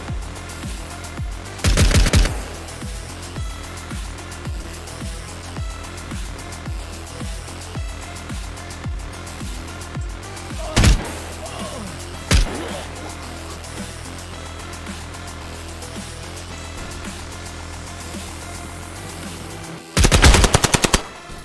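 Automatic gunfire in a tactical video game shooter, with loud rapid bursts around the start, a couple of single sharp shots midway and another heavy burst near the end, over a low ambient hum with occasional faint talk.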